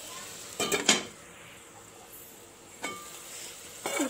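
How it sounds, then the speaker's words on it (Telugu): Metal lid set onto a pot of curry: a few sharp clattering clinks, a pair close together and then two more spaced out, fairly close and clear over quiet kitchen background. "దీన్ని కాసేపు మూత పెట్టి మగ్గనిద్దాం"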